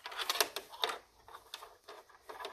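A sewing machine topstitches a wrist strap at a long stitch length in short bursts, its quick mechanical chatter starting and stopping several times, close by and fairly quiet.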